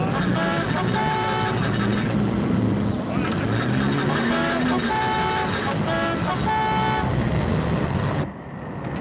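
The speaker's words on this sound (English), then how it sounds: "Don't you blow your horn at me" A car horn sounds in a 1962 street scene, with long, steady horn tones repeating over several seconds amid loud traffic and engine noise, followed by a brief drop at the end.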